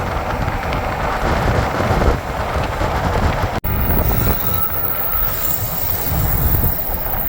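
Locomotives pass nearby during a drive on a highway, a heavy continuous rumble with wheel noise and squeals, loud and steady, broken briefly by a short dropout partway through.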